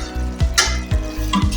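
A spoon stirs a cauliflower and chicken curry in a hot pan: a few scraping, sweeping strokes over a sizzling fry, close and loud, with no speech.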